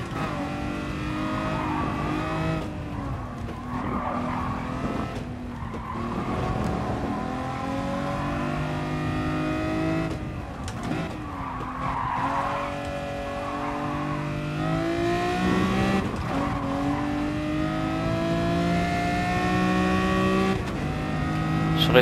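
A Ferrari 250 GT Berlinetta engine in the GT Sport racing game revs loudly and continuously, its harmonic pitch rising and falling through gear changes, while someone talks intermittently over it.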